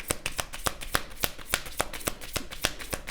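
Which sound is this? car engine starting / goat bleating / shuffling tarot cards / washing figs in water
shuffling tarot cards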